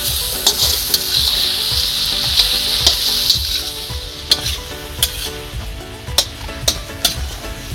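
Chicken sizzles steadily as it fries in a pan on a serial set kitchen, with a constant crackling hiss and sharp clicks of a utensil stirring and scraping at irregular intervals, close and moderately loud, with no talking.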